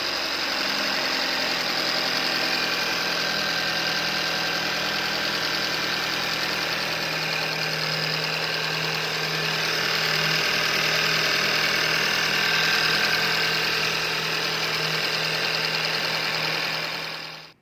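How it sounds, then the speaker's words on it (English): A 2.0L GDI four-cylinder in a 2013-2020 Kia Rondo / Hyundai Elantra idles steadily after an engine replacement, a close, constant mechanical drone with a faint ticking edge, running alone without talk. "engine sounded pretty good and healthy"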